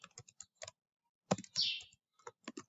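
Keys clatter on a computer keyboard as a short post is typed. Brief bursts of taps are split by a pause, recorded close and moderately quiet.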